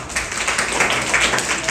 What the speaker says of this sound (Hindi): इनके लिए जोरदार तालियां बजाओ